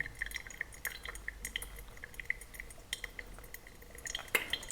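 Filter coffee drips steadily while brewing, a quiet, irregular patter of small liquid drops with faint clinks of glass or cutlery, close by and soft, with no talking.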